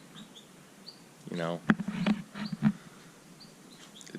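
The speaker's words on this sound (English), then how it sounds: "The birds are up and chirping" Birds chirp in the morning outside a garage, a few faint, high chirps scattered across the stretch while someone talks over them in the middle.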